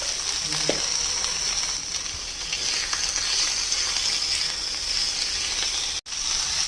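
Egg bhaji with chopped green chilli sizzles steadily in a pan, a loud continuous frying hiss with a brief stir near the start and a short break in the sound near the end.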